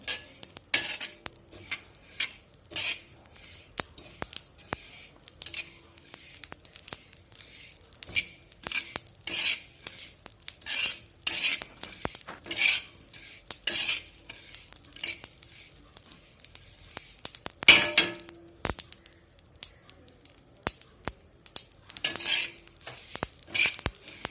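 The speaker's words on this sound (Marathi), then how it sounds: "आपण आता हे काराळ भाजून घेऊया मंद आचेवर परतून घ्यायचं आहे" Niger seeds (karale) roasting in a pan over a low flame as they are stirred, giving steady dry scraping and rattling strokes with a light crackle, fairly close and continuous, with no talking.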